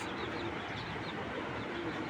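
Soft, low cooing of a racing pigeon repeats a few times beneath a steady, noisy background.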